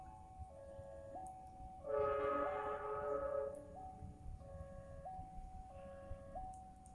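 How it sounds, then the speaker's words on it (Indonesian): Argo Wilis passenger train sounding its horn at the junction of the Cibatu–Garut and Cibatu–Tasikmalaya lines, a loud sustained multi-tone blast of about two seconds, with a repeating electronic crossing chime before and after and someone speaking briefly. "Semboyan 35 sudah berbunyi dekat nih teman-teman. Nah, Argo Wilis."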